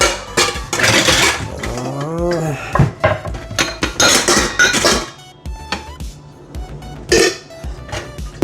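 Dishes being washed by hand in a kitchen in Canada, with loud clinks and clatters of plates and pans in irregular bursts, mixed with running-water noise and someone talking throughout.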